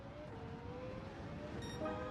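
Engine drone of a car in Gran Turismo 7, a quiet, steady hum with a faint rise in pitch near the end and no voices.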